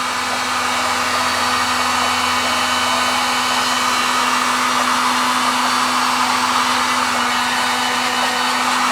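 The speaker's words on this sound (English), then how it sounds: "Yep, this heat gun is on its last leg." A worn-out heat gun blows hot air to shrink heat shrink tubing, a loud, steady close whooshing roar with a constant low hum running unbroken from start to finish, with no speech.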